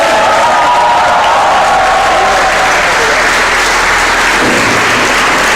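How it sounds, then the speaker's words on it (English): Audience at a cricket meet-and-greet with Graeme Smith in Dubai breaks into steady, dense applause with some cheering, a continuous crowd wash filling the whole stretch. "make some noise for Graeme Smith"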